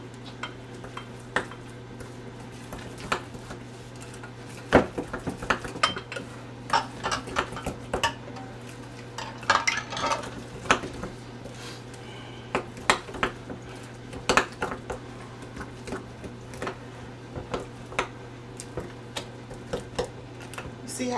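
Cornbread batter with sour cream is beaten in a bowl, giving close, steady scraping and stirring with sharp knocks of the utensil against the sides.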